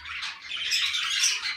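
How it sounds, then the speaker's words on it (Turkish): Pet birds squawk and chirp in a steady, busy chatter, shrill and close, with no pauses and no voices. "Çünkü sesleriyle konuşuyor kuşlar."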